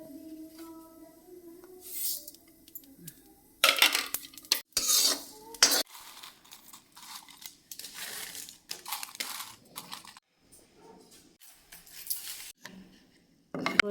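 Dry spices, coriander seeds, cumin and chilies, roasted in a pan for a jujube pickle: scraping stirs, rattling clatter and soft crackling bursts come close and uneven, with quiet gaps between strokes.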